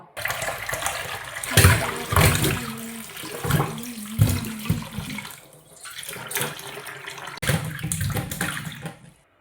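Cassava pieces are washed under running tap water, with splashing, gurgling bursts and handling in a bowl or sink, alternating louder and quieter stretches; no talking.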